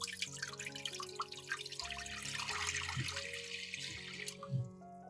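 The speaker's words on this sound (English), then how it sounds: "Now pour water into the steamer." Water pours into a steamer pot in a steady, fairly loud splashing stream that trickles off toward the end, with no talking.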